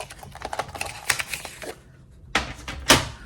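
A paper trimmer slicing a piece of card in half while making a rocker card, heard as a run of quick close scraping, clicking strokes followed by a couple of sharper cuts near the end.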